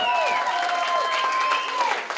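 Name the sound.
audience applause for a band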